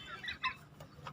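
A farm hen beside its nest of eggs in a coop clucks softly in a few short, scattered calls, fairly faint against light background noise.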